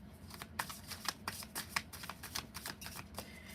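New, slippery tarot cards are riffled in a quick, soft flutter of repeated papery bursts, close and fairly quiet, with no talking.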